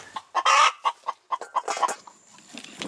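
Broody mama hens cluck in quick, loud, close bursts, a run of sharp clucks with short gaps and a brief high tone near the end, no speech.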